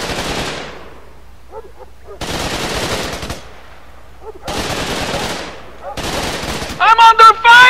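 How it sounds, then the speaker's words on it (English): Bursts of automatic machine gun fire in the Xbox 360 game Raven Squad come in four loud, sharp volleys separated by short pauses, with brief electronic game sounds in between. "I'm under fire! Fire in the hole! Receiving enemy fire!"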